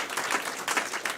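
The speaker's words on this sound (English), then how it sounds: "Let's clap for everyone" Lively clapping from a small audience at a live stage show, a dense patter of hands rising and falling in short waves for just over a second.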